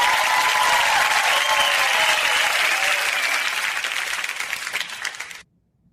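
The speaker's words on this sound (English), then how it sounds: "I'm giving everybody a round of applause" An audience at a horror awards event breaks into loud, sustained applause, with the clapping thinning slightly before it cuts off abruptly near the end.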